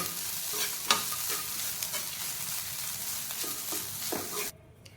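Grated coconut and cashews roasting lightly in ghee for sweet rava paniyaram, giving a continuous close sizzle with intermittent scraping stirs, no talk, stopping abruptly just before the end.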